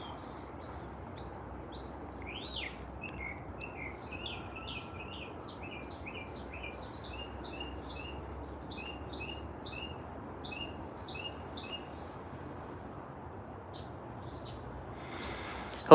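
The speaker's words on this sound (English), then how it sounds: "And all the birds are chirping and happy to be here" Birds chirping in a sunny garden, with a steady run of high, quick tweets and trills across the scene over soft insect-like buzz and low ambient hum, moderately distant.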